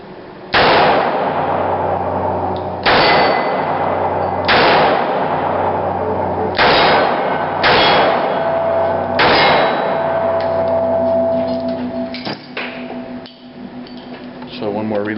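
A .38 Smith and Wesson Model 10 Military and Police revolver with a 2-inch barrel fires at a steel target plate, with a run of about seven loud, ringing metallic clangs at irregular intervals, the last ones closer together and fading.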